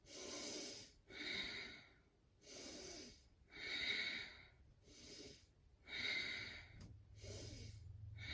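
Slow, audible yoga breaths during a held pose with the palms pressed together, about seven even cycles of breathing in and out, close and clear, with no talking.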